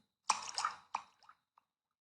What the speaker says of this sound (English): that was the stone thrown into a still body of water